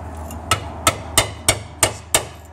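Six sharp metallic hammer taps land at a steady pace while a seal is knocked out of a Ford C6 automatic transmission extension housing, close and loud over a low background hum.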